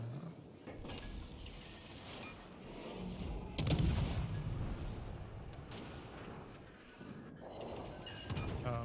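Soviet 130 mm naval guns on the tier 11 cruiser Harbin fire in World of Warships: Legends, heavy booming salvos rolling under a steady mix of battle noise, with one sharper, louder blast midway.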